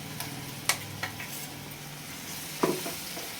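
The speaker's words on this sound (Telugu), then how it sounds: "ఈ మసాలా కూడా బాగా ఆగనిద్దాం" Ground masala fries with onions in a pan, giving a soft continuous sizzle up close. A couple of sharp scrapes come as a spatula stirs the mixture.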